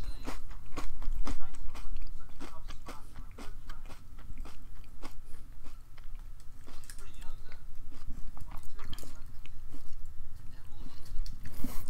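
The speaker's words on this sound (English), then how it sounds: "I hope you can't hear this crunching, but it's good." Crunchy fortune cookie and Chinese food being chewed close to the mic, a steady run of sharp crisp bites and crunches with a speaking voice over the top throughout.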